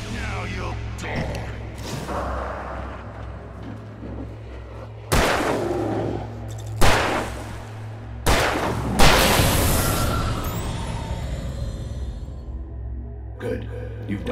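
A few sharp gunshots in Alan Wake Remastered, loud, close and spaced several seconds apart, each trailing off into a ringing echo, heard over a low droning ambience with a voice speaking.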